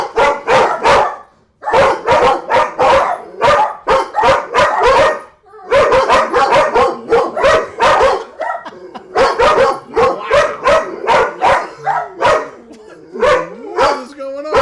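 Several dogs bark repeatedly in loud, rapid bursts throughout a home, with brief pauses and a few yips and whimpers near the end; people talk over parts of it.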